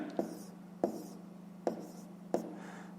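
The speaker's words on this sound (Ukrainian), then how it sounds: "записуємо це у вигляді звичайного дробу" Pen strokes write a fraction by hand on paper, four short, close scratchy bursts spaced about half a second apart over a quiet steady hum.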